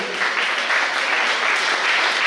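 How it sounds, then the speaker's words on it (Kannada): Dense, steady applause from a concert audience fills the space, a continuous wash of many hands clapping at once with no voices on top. "ನೋಡಿ ಆ ಚಪ್ಪಾಳೆಯ ಧ್ವನಿ ಆಕಾಶದಕ್ಕೆ ಮುಟ್ತು ಅಂತ ಅನಿಸ್ತಾ ಇದೆ."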